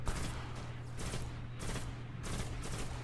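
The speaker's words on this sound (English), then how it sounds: "Shotgun's super powerful" Shotgun blasts in the sci-fi shooter Destiny, several loud booming shots spaced roughly half a second to a second apart, each with a sharp attack and short tail over low game ambience.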